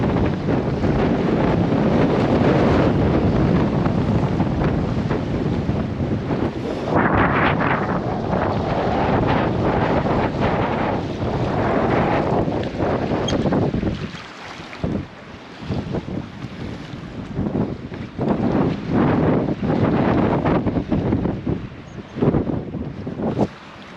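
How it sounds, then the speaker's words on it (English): Strong gusty wind roars over an anchored sailboat at Puerto Escondido in the Sea of Cortez during a norther, buffeting the microphone with steady rushing noise that eases and returns in surges, with water sloshing faintly underneath. "The wind keeps coming from different directions."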